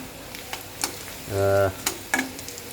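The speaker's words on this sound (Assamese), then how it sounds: "কেৰাহী গৰম কৰি মিঠাতেল অকণমান দি এতিয়া পিঁয়াজটো অকণমান ভাজি আছোঁ" Onions frying in a little mustard oil in a heated wok, a steady low sizzle with scattered stirring clicks and scrapes, plus a brief humming tone in the middle.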